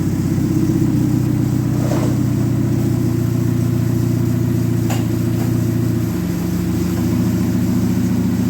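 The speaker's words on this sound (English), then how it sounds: "Now we're going to run the transmission through the gears and we'll check the fluid level." A Dodge Neon stock car engine hums loudly and steadily near the microphone while the transmission is run through the gears, its tone shifting slightly late on as the gear changes.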